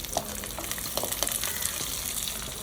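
Shallots and green chillies fry in oil in a pan with curry leaves for a Kerala sea-snail curry, a steady close sizzle broken by irregular scraping clicks of a spoon stirring through.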